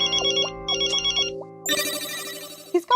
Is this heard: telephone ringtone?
yes